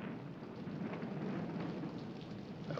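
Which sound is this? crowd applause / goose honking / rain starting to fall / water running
rain starting to fall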